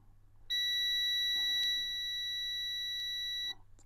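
A single steady multimeter continuity beep sounds for about three seconds while testing an Epson L1800 printhead, close and clear, with faint clicks of probes touching at the start and end.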